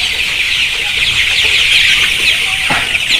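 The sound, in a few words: Sonali chickens, 25 days old, clucking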